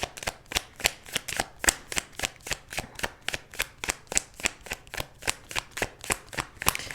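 Tarot cards shuffled steadily by hand, about twenty-five crisp riffling snaps in an even rhythm, close and clear with no talking.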